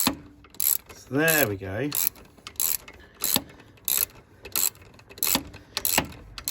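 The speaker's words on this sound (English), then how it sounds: "we've just got to tighten this belt up now by just tightening that one there" A ratchet tightening the alternator belt tensioner on a 2011 Ford Ranger Wildtrak, ticking in short repeated bursts of clicks at a steady working pace, close up, with a brief voice partway through.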